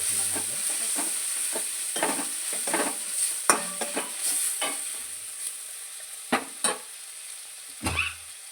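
Palak mutton curry simmering in a pan, a soft steady sizzle broken by repeated scraping strokes of a spoon stirring, close and without talk.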